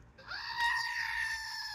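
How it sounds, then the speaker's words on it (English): An old one-eared goat gives a single drawn-out, wavering bleat lasting about a second and a half. It is heard close and fairly clear, with no talking over it. "The old stinking one-eared goat."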